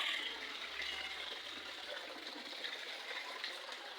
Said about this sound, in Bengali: এই যে ট্যাপ দিয়ে মানে পানি পড়ছে